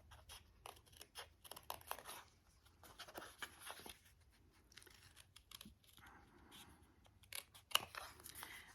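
Scissors snip through cardstock around a printed tree image during a Stampin' Up card-making class, a close, quiet series of short crisp cuts in irregular rhythm with small pauses between.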